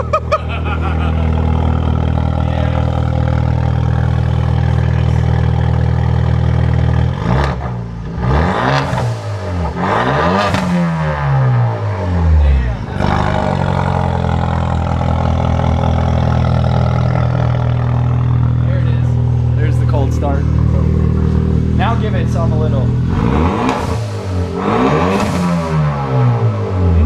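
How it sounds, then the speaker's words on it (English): A Hyundai Veloster turbo engine with its catalytic converter removed revs loudly over a steady rumbling idle, rising and falling in several sharp throttle blips with no talk over it. "Oh, you can actually hear the turbo now."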